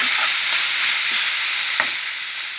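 Red holy basil stir-fried with sun-dried pork in a hot pan gives a loud, continuous sizzle with a few soft scraping stirs mixed in, and the sizzle eases slightly toward the end.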